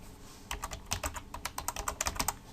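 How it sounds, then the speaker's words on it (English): Rapid keystrokes on a computer keyboard in irregular bursts of clicks, close and fairly quiet, with no voices. "I'm just typing it out just so you can understand it."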